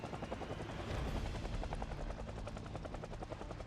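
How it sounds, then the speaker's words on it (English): A helicopter in Project Zomboid passes overhead: a loud, continuous rotor thump with rapid rhythmic chopping pulses over a deep engine rumble, steady throughout with no other sounds. "And if you hear a helicopter, move away from your base."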